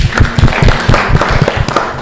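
Classmates clap for a student named Ana during a teaching-practice lesson in an Indonesian classroom: a steady run of sharp, close handclaps in an even rhythm for about two seconds.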